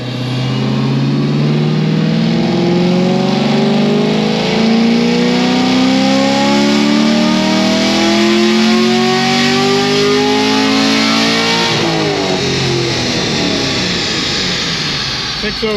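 A 700 hp naturally aspirated LT1 Camaro engine roars through a dyno pull, its pitch climbing steadily for about twelve seconds before dropping off as the revs fall, loud and close throughout.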